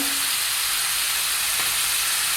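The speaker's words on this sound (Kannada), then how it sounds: "ಹಾಕೊಂಡು ಚೆನ್ನಾಗಿ ಫ್ರೈ ಮಾಡಿ. ಆಮೇಲೆ 1 ಚಮಚ ಚಿಲ್ಲಿ ಸಾಸ್ ಹಾಕ್ತಿದ್ದೇನೆ, ಕೆಂಪು ರೆಡ್ ಚಿಲ್ಲಿ ಸಾಸ್." Chicken dry roast sizzles steadily in a pan as red chilli sauce is added, a continuous close hiss with no other sounds over it.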